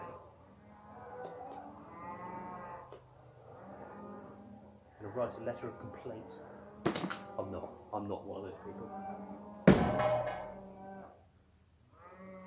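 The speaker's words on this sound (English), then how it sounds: "I don't know if you can hear those cows next door," Cows lowing from a neighbouring field behind someone speaking close by, their moos drifting in and out beneath the talk, with a sharp knock partway through.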